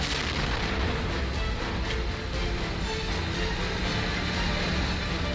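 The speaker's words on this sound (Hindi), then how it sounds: "धमाके की जोरदार आवाज से इसका अंदाजा लगाना भी मुश्किल नहीं कि रूसी सैनिकों का ये हमला कितना घातक था।" A dense, continuous rumble of heavy blasts from a multiple launch rocket system strike in the Ukraine-Russia war, loud and sustained with repeated thuds and no voices.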